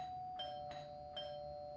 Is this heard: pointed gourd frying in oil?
no